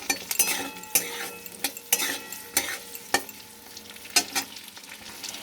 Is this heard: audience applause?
no